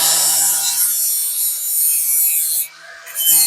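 A file rasps across the ends of a steel piece being tidied for welding during a van seat fitting, a steady, close scraping that runs for most of the span before briefly dropping away and returning.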